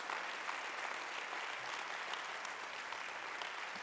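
Congregation applauding during a church worship service, steady dense clapping from many hands filling the room throughout, with no pauses.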